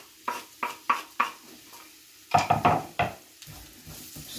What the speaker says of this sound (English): Stirring now.